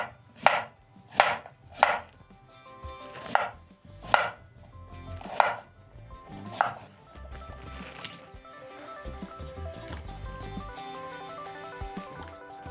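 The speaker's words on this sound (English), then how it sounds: "so I'm going to finish up chopping my potatoes" Potatoes are chopped with a knife on a board: about eight sharp, distinct chops at an even pace, followed by quieter, busier cutting and scraping near the end.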